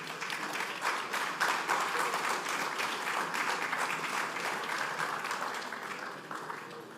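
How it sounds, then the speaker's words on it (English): Audience at a trade and investment forum applauding the panelists, a steady even wash of many hands clapping at moderate distance, sustained for several seconds and fading slightly at the end. "Can you please give our esteemed panelists a round of applause again?"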